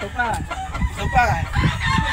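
A gamecock handled in a cockfighting release drill, clucking and squawking close by in short agitated bursts, with a voice talking faintly alongside.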